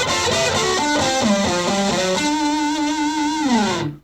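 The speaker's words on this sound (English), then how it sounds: "There's my distortion." Distorted Fender electric guitar played through the amplifier's built-in push-button distortion, a run of sustained overdriven chords and notes, loud and close, with a final ringing chord cut off abruptly.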